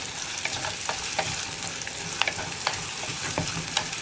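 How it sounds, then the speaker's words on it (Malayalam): Onions sautéing in a pan for tomato kurma, stirred with a spoon: a steady soft sizzle with irregular scraping and clinking taps of the utensil against the pan, close and moderately loud, no talking. "ഇത്രയും ചേർത്ത് നന്നായിട്ട് ഇളക്കി സവോളയുടെ കളറൊന്ന് മാറി വരണം."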